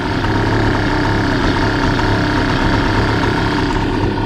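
A cheap Hangkai 3.6 hp outboard motor idles on a sailboat, a close, loud, steady mechanical drone that runs unbroken with no talking.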